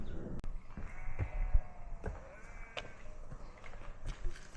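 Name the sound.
flock of sheep bleating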